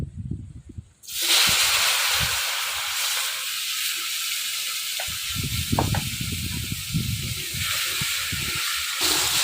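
Tomatoes fry in hot oil with whole garam masala, cumin and dried red chilies; a loud hiss bursts in after a brief quiet start and keeps going, broken by faint stirring knocks.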